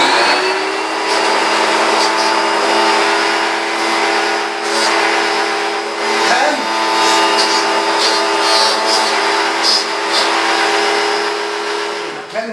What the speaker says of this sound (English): Ken and Sylvia, that's the amount of power you have right there where you're cleaning your rugs with the Dyson